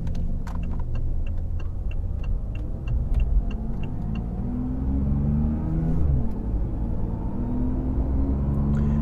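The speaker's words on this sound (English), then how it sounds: "So what I'm gonna do is actually take this for a ride and then see exactly what this does as" A BMW i8 drives along a road, a steady interior engine and road hum rising and falling in pitch as it accelerates, with faint clicks and rattles over the drone.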